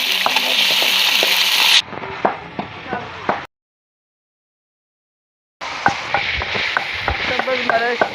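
Mixed vegetables with tomato, cumin, green onion, green chili and ginger sizzle loudly in a pan under repeated spatula clanks and scrapes, with a brief silent break midway before the stirring resumes.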